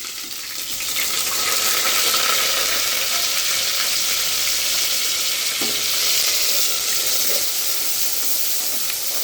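Onion paste sizzles steadily as it fries in a curry pan with bay leaves for thalakaye curry, a loud, continuous hiss with occasional stirring clinks, no talk.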